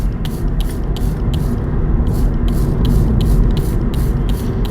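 A spray bottle spritzes carpet cleaner onto carpet in a quick, regular series of short hissing bursts, about a dozen, loud and close over a low steady rumble.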